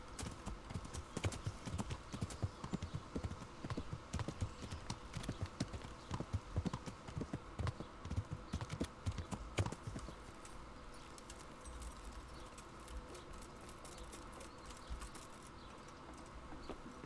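Rapid, steady hoof clops from a horse in the video game Kingdom Come: Deliverance at a brisk pace, close and crisp, with the rhythm easing and thinning out in the last few seconds.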